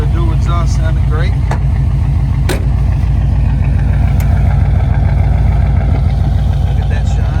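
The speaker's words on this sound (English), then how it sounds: "Hear the dual exhaust sounding great." A 1965 El Camino with a 350 V8 and dual exhaust idles steadily nearby, a low even burble that continues throughout, with brief talk over it.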